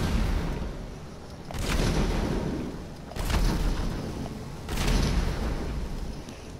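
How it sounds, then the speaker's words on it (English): A tank being blown up in GTA, three heavy booming explosions about every second and a half, each a loud roaring burst that decays into rumble, with no voices. "let's try and blow this tank up while we can"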